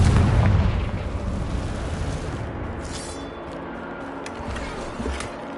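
A fiery Confringo spell blasts in a Harry Potter-themed video game, opening with a loud booming burst that trails off into a rumbling, crackling decay with scattered small pops.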